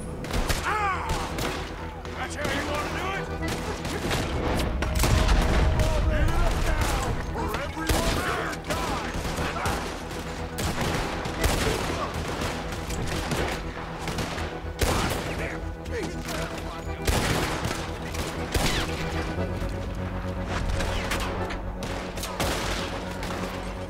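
Gunfire in Red Dead Redemption 2, a steady run of close, sharp gunshots and thuds layered over the game's ambient score, with a voice talking now and then.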